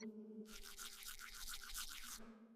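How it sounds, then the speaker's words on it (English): Toothbrush scrubbing teeth up close: a quick run of rhythmic bristle strokes lasting under two seconds over a faint low background hum, quiet overall. "I brush my teeth."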